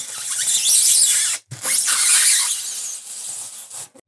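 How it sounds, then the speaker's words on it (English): A serrated bread knife saws through styrofoam in long, continuous scraping strokes, producing a bright squealing rasp that pauses briefly twice, close and loud with no talking. "so I'm gonna use a bread knife. Oh, I bet this is gonna make a wonderful noise"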